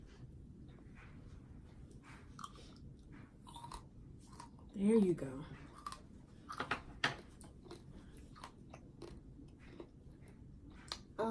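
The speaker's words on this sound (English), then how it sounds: "Crunch, so people can hear the crunch." Crisp, crunchy chewing of fresh fruit at a kids' fruit mukbang in a greenhouse, with a few close bites and chews heard while people talk nearby.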